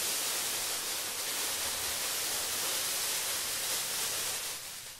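Foil blanket rustled to imitate rain, a dense, continuous crackling hiss close to the ear, steady throughout and tapering slightly at the end.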